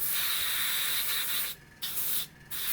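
Steady hissing spray from an aerosol can of primer on a model tank kit in two long bursts with brief pauses between, close and fairly loud.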